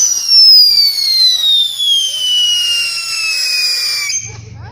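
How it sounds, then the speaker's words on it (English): Fireworks go off close by, a loud screaming whistle that slowly falls in pitch for several seconds before cutting out, with people talking nearby. "I want to say they're lighting more fireworks."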